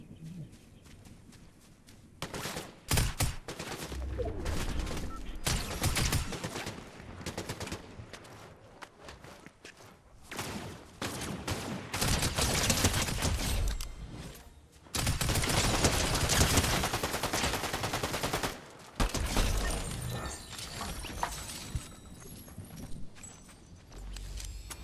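Bursts of gunfire in a Fortnite match, rapid automatic volleys alternating with quieter gaps and footstep-like clatter, loud and near, with brief stretches of lull between the heavy bursts.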